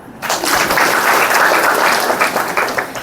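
A classroom of students claps together at a teacher's request, a dense, steady burst of applause that stays loud for about three seconds.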